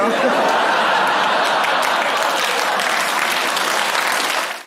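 Studio audience at a British comedy panel show cheering and applauding, a loud, dense, sustained roar of clapping with some laughter mixed in, filling the whole stretch and cutting off at the end.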